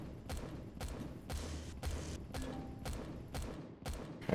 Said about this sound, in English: That thing is just shooting and shooting and shooting.